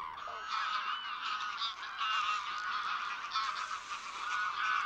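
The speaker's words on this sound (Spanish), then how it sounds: "el cielo se llena de gansos salvajes, también conocidos como ánsares" Wild geese, also called greylag-type ánsares, honk in a dense, continuous chorus over a wintering wetland at Villafáfila, with many overlapping calls carrying steadily from a distance and no voices.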